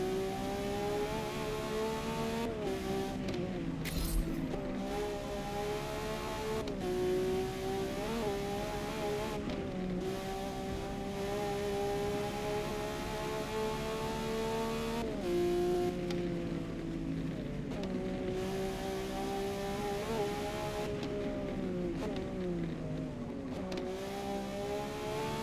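A Lamborghini Revuelto engine in the racing game Forza Motorsport drones steadily for the whole stretch, its pitch rising and falling through revs and gear shifts, loud and continuous with no talk.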